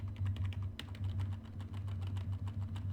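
Keys on a computer keyboard clatter in quick, uneven bursts of clicks at close range, with a steady low hum running underneath and no voices.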